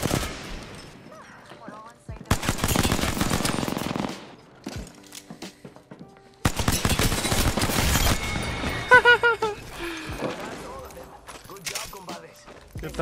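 Rapid bursts of P2020 pistol fire in Apex Legends Season 8, loud clusters of close shots separated by brief quieter gaps with other game effects in between.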